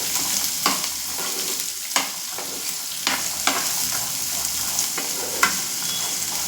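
Curry leaves and chickpeas fry in hot oil with a constant, bright sizzle, broken by a handful of clean, evenly spaced clicks of a stirring spoon against the pan, close up with no voices.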